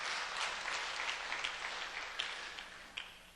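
Applause from a church congregation during a Wednesday service at a Korean church in Chicago, a steady wash of clapping at moderate level with a few sharper individual claps standing out near the end.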